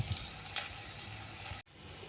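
Onions fry in oil with a quiet, even crackling sizzle that runs steadily, then briefly drops out near the end.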